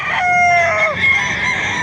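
A rooster crows once at a market in Baliuag, a loud, drawn-out call that rises and falls, with a few fainter clucks and farmyard noise around it.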